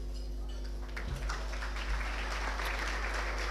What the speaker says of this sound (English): A well-deserved round of applause for Canon Cayman O'Carroll